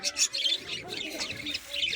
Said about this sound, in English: So nice bird.